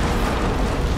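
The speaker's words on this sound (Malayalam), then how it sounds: "മാറിക്കട മാറിക്കട, ഇപ്പൊ പൊട്ടി തെറിക്കും" A TNT box blowing up in the video game Tomb Raider, a loud, dense full-band blast and rumble filling the whole second without any pause.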